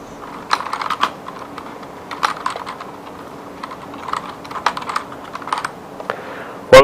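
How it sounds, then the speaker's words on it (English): Loud typing on a computer keyboard, with irregular bursts of clacking keystrokes spread across the stretch, close and clear, with no speech. "let me just try some of that more loud typing"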